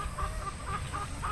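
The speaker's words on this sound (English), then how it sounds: "chicken gawking and rambling" Olive egger hens, some of them molting, cluck in a rhythmic series of short calls over a low, steady outdoor background hum.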